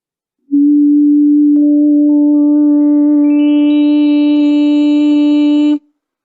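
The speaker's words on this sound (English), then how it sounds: "let's add back in the higher harmonics slowly, and you can hear all of it come together." A steady synthesized vowel-like tone begins as a pure hum, then gains higher harmonics one by one, growing richer and brighter before cutting off.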